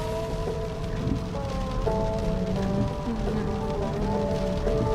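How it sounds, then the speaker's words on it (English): Heavy rain and wind while driving, a steady dense wash of rain drumming on a car with a continuous rumble underneath, while voices talk over it. "We can hardly see anything through all this rain, and the wind is blowing so hard we're barely staying in our lane."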